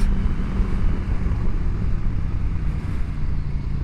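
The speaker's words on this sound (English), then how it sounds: "I love the sound of the Norden now. I'm so happy with this wings exhaust." A Husqvarna Norden 901 motorcycle fitted with a Wings exhaust drones with a deep, steady low rumble, loud and continuous with some wind buffeting, no talk.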